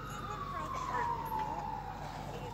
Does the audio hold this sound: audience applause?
no